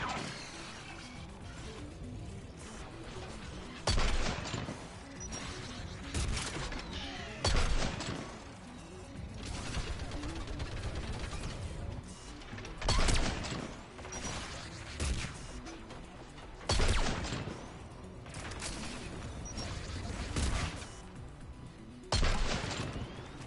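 A gun turret fires in the Mass Effect 3 video game, with sharp, fairly loud bursts recurring every few seconds over a constant rumbling battle ambience.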